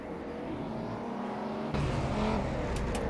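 An inline-four DTM touring car racing at Zandvoort in 1992, its engine droning steadily before a louder car sweeps in close and roars past, holding a strong throaty note to the end.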